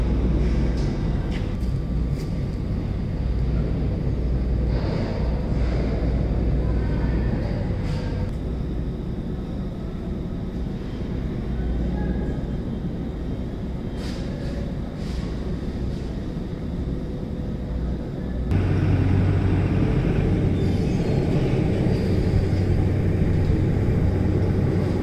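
An industrial dust extraction system's ducting draws fine dust from elevator and silo areas, making a steady, loud, broadband roar with a low rumble that shifts to a heavier tone toward the end.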